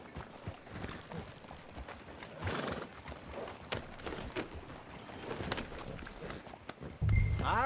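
Horses walk and trot along a trail in the video game Red Dead Redemption 2, with steady, fairly quiet clip-clopping hooves and an occasional snort or whinny over soft outdoor ambience.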